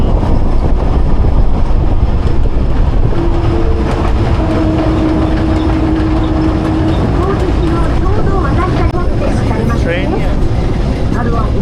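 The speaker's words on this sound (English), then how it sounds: "Train." A train runs on rails through the Kurobe gorge in Japan, a loud continuous rumble and clatter of wheels with squealing tones, while people talk over it.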